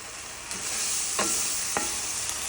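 Cauliflower egg fried rice cooking in a pan: a steady bright sizzle runs throughout, broken by a few sharp clicks and scrapes of a utensil moving the rice.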